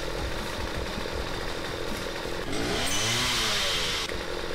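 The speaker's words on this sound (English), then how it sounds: "this is what I'm talking about, the chainsaw." A chainsaw-wielding enemy in the game Star Forge roars close and loud, its engine droning steadily before revving up to a higher, harsher whine that holds for over a second, then drops back.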